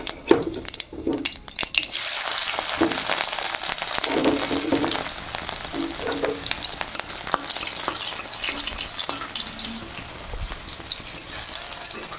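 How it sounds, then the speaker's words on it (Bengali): Steady, dense sizzling of leafy greens frying in a pan, with occasional stirring clatter near the start, continuous and fairly loud. "তারপরে শাকটা ভাজা করব"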